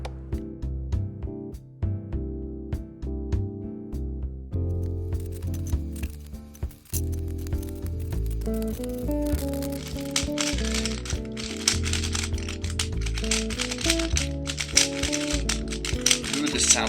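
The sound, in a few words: turning a mixed Dayan 3x3x3 speed cube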